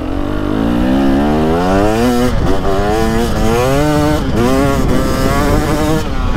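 A KTM 300SX two-stroke dirt bike on its stock pipe and silencer revs loudly and close, its buzzing engine note rising and falling repeatedly through several throttle blips without a break.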